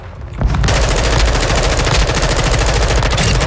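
Rapid automatic gunfire in the Call of Duty: Modern Warfare II multiplayer video game, a loud continuous stream of shots starting after a short quiet lead-in.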